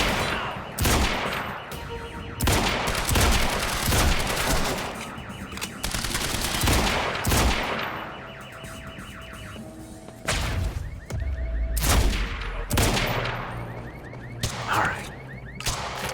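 Rapid bursts of gunfire from a shootout in Quantum Break, loud and close, with repeated automatic volleys and single cracks coming in clusters across the whole stretch.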